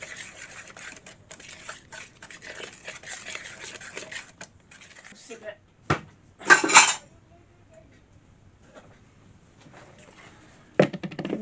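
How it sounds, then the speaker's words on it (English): A Danish dough whisk rattles and scrapes inside a bowl as it mixes half a cup of icing sugar. The metallic clatter runs in quick bursts, then a pause, then a few louder clinks. "Danish dough whisk will do."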